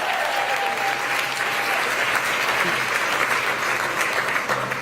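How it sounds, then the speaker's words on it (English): A large crowd applauding steadily, dense continuous clapping at a fairly loud level throughout, with faint voices mixed in. "Let's give them all a big round of applause."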